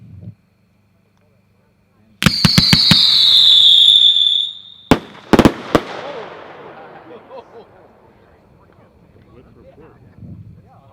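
A Vulcan fan slice firework cake fires at an outdoor product demo: a whistling streak, then a ragged burst of sharp cracks and bangs, followed by a fading crackle and faint rumble, with a voice heard briefly.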